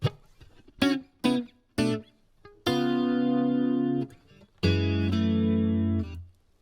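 Electric guitar through effects plays a verse: three short chopped chords, then two long sustained ringing chords, loud and close with no voices.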